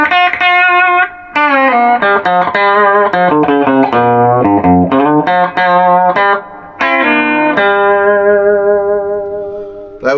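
An electric guitar, a Gibson Les Paul Deluxe through a drive pedal into a Marshall 100-watt Super Lead '68 Plexi amp, plays a lively run of distorted notes, ending on a sustained chord that rings out and fades with a reverb tail.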